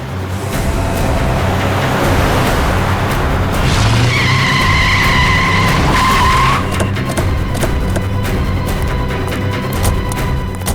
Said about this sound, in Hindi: गाड़ी भगा भगा के वो जाएगी कहाँ?